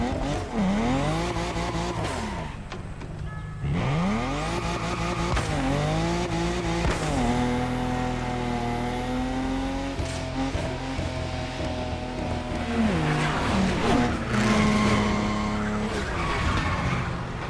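Tires squeal and skid repeatedly in The Crew Motorfest as a Japanese street-tier car drifts through turns, the pitch sweeping up and down over a constant engine drone, loud and close with no voices.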